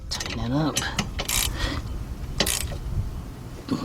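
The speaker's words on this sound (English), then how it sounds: "take my wrench, hold it in place, tighten it up." A wrench tightens a bolt on a 2007 Honda Accord rear rotor, with a few short metallic clicks and clunks up close. Faint background noise runs underneath.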